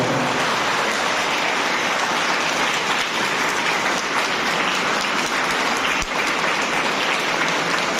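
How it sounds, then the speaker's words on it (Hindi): An audience at a moral education program gives sustained, loud applause, a dense wash of clapping that continues evenly throughout without voices over it. "कम से कम एक बार जोरदार ताली बजा के इनका हो।"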